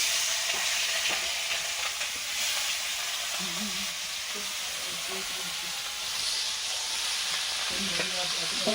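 Freshly caught kokari fish frying in oil over an outdoor cooking fire, with a steady, bright sizzle and hiss that runs throughout and low voices talking beneath it.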